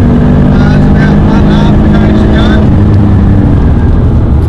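Big family saloon rally car driven hard on a Targa New Zealand tarmac stage, heard from inside the cabin as a steady loud engine drone and road roar with shifting tones, continuous throughout.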